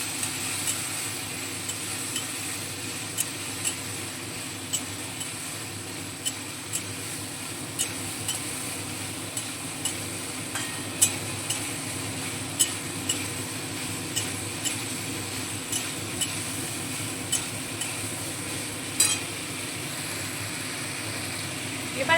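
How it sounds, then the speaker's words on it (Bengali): Spices and water worked into papaya curry in a pan, a continuous soft sizzle with a run of light, evenly spaced scrapes and taps from a stirring utensil, close by and fairly steady. "পরিমাণে কিছুটা জল দিয়ে দিচ্ছি এবার মশলাগুলো খুব ভালোভাবে পেঁপের সঙ্গে মিশিয়ে নেব"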